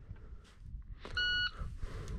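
A single short electronic shot timer start beep sounds at a shooting range over faint background noise, sharp and tonal, lasting about a third of a second.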